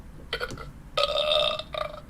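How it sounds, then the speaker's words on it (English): A loud, drawn-out burp, starting with a short croak and then stretching into a long, throaty belch, with no other sounds. "That's a burp."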